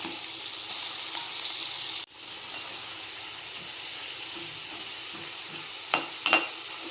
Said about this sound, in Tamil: நல்லா ஆனியன் வந்து ரெட்டிஷாக வர வரைக்கும் நம்ம இப்படி மிக்ஸ் பண்ணிகிட்டே இருக்கணும்